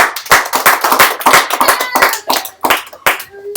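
Close, loud hand clapping in an uneven rhythm, a small group applauding with sharp individual claps rather than a broad crowd wash.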